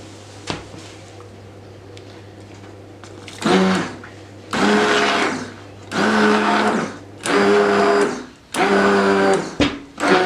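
A blender whips hazelnut chocolate ice cream in five loud bursts of several seconds each, separated by short pauses, after a quieter stretch with a steady low hum.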